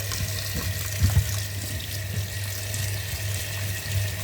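Tap water runs steadily over boiled pasta being rinsed in a home kitchen, a continuous close splashing stream with a couple of brief louder splashes.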